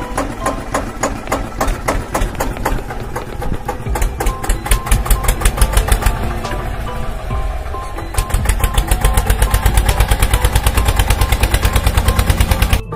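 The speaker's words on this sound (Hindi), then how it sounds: "बच्चों ये देखो कितना बढ़िया ट्रैक्टर है।" Tractor engine running with a fast, loud, steady rhythmic chugging of rapid regular knocks throughout, no talk over it.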